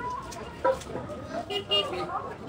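Chickens for sale at a busy evening village market cluck in short, loud bursts close by over a low murmur of crowd noise and background voices.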